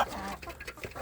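Young village chicks peep and cluck in a short, busy burst of overlapping calls, close by and fairly soft, with no one talking.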